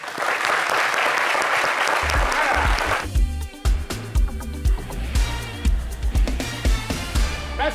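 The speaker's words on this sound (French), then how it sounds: "Continuez d'applaudir" A television studio audience applauds warmly as a professor guest is welcomed, a dense, loud wash of clapping for about three seconds that gives way to rhythmic, bass-heavy music.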